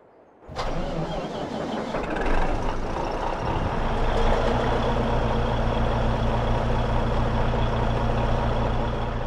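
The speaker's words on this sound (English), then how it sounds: "let's go fire up the old Lizard 1800 horsepower semi-truck. Let's have a listen." Lizard 1800-horsepower semi-truck in Farming Simulator 22 cranks and fires up with a sudden start, then settles into a loud, steady, rumbling idle that runs alone for several seconds.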